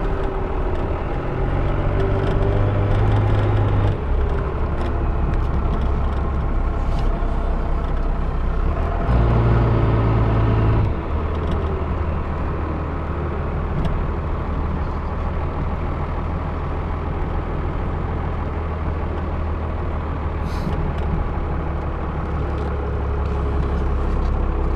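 A 1997 Dodge Ram 3500 Club Cab SLT Laramie dually pickup on the move, with a steady, loud low engine and road rumble running throughout, rising briefly in pitch at a couple of points, no talk.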